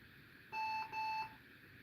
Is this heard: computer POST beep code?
yes